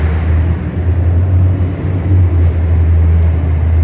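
Idling engines at a muscle car and Corvette show form a steady, loud low hum with no breaks.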